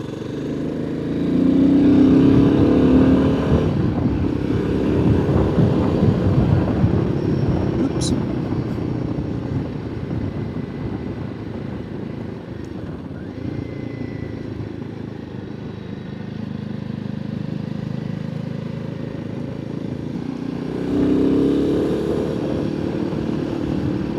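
A Royal Enfield Himalayan 450 motorcycle rides steadily, its engine drone and road and wind rush running loud and continuous, with rises in revs near the start and end.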